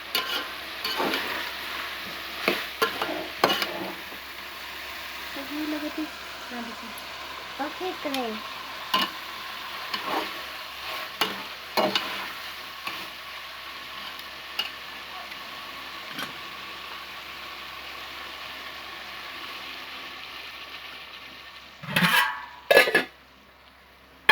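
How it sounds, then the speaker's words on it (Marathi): Food fries in hot oil for a village-style cauliflower masala rice, a soft, constant sizzle broken by scattered clinks and stirring knocks, with a few louder bangs near the end. "ते आपण चांगलं तळून घ्यायचं ही तेलात"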